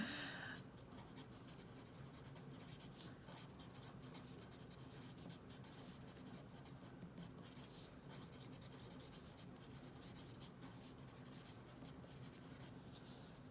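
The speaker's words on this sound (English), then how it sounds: "It's actually really hard for me to write and talk at the same time." A pen or pencil writes by hand on paper, a faint, continuous scratchy rubbing that runs steadily through the whole stretch, close and quiet, with no talking.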